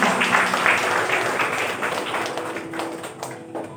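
Guests applaud after the bride's veil is lifted at a church wedding service: a burst of clapping from a gathered crowd that stays steady and slowly thins, with a few sharp taps near the end.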